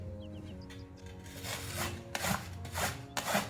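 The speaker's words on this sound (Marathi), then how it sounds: "आता सर्व कणसं असेच किसून घेते तीनही कणसं आपण अशा पद्धतीने किसून घेतले" Fresh corn cobs are rubbed against a hand grater over a wide pan in repeated rasping strokes, close and fairly quiet, with no talking.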